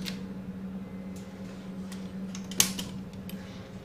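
A ThyssenKrupp hydraulic elevator door slides shut in a campus hall, giving a soft mechanical clunk with light ticking over a steady machine hum, no voices.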